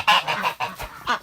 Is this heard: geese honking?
yes